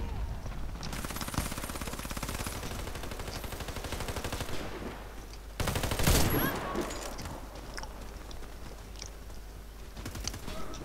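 Rapid gunfire from a video game shooter, dense automatic bursts running almost continuously with a louder blast in the middle, close and loud, no talking.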